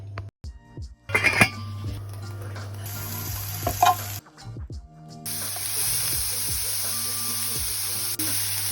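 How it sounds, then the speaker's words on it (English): Chili ingredients sizzle and fry in a pan with stirring, scraping and occasional clinks of a utensil, the frying hiss rising and settling into a steady sizzle after a few clattering bursts. "I'm going to start adding everything to the pan for the chili."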